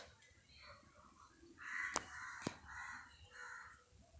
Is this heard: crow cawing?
yes